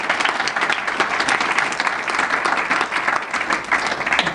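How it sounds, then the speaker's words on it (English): Audience applause fills the room at an evening community gathering in Sydney, a dense, steady patter of many hands clapping at once, loud and close, holding at an even level throughout with no voices over it. "If we give them a big round of applause"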